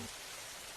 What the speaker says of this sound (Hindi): जब सुबह उनकी आंख खुलती है तो अब भी बारिश हो रही होती है